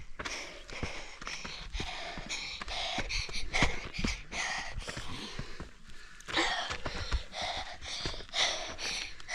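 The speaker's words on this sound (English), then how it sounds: "enjoy some nice, long breathing" Heavy, drawn-out breathing from a hiker at around 6,000 feet, with repeated loud inhales and exhales in an uneven rhythm, close to the microphone alongside rustling movement.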